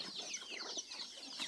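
A chicken clucks close by in a rapid run of short, bright calls that continue steadily over a quiet farmyard background, with no voices.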